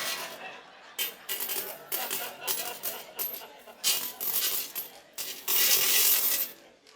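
Coins drop and clink in a run of loud, close bursts, ending in a longer, denser cascade of jingling metal.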